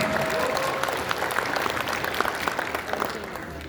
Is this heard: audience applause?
yes